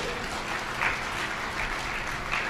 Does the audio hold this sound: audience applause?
yes